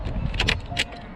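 Jangling of red Porsche 981 Boxster S keys inside the car, a few bright metallic rattling bursts in quick succession, close and fairly quiet over a low cabin rumble.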